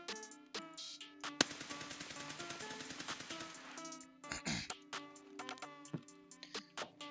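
A suppressed gun fires in Escape from Tarkov while standing, with a sustained rapid automatic burst followed by several spaced single muffled shots, close and fairly quiet over faint game ambience.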